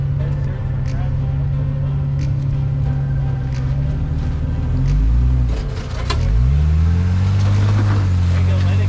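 Engine of a built Toyota rock crawler revving on a California 4x4 trail as its wheels spin for traction on rock, a steady low drone that surges and shifts pitch midway, with people talking over it.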